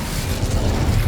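Incendio fire spell cast in the Hogwarts Legacy video game, a loud, dense roaring whoosh of flame with a booming low rumble, heard up close and continuous throughout.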